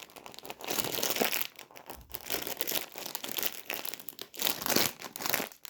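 A plastic snack bag from a carton of Lulu sweet pepper-flavoured snacks crinkles and crackles steadily as it is pulled and forced open, close and loud, in continuous bursts of rustling.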